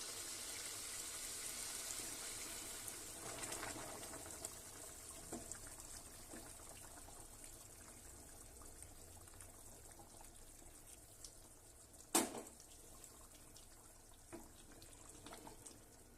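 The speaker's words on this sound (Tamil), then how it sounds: "இப்போ நம்ம தண்ணி ஊற்றலாம்." Hot water is poured into a pot of Bangalore-style chicken donne biryani, a quiet, steady liquid pour with a brief sharp clink partway through and no talking.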